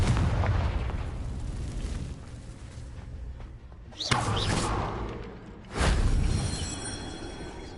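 A Confringo blasting spell from Hogwarts Legacy erupts in loud booming explosions: a rumbling roll, then two sharp blasts a second or so apart, each with a heavy crack and decaying roar.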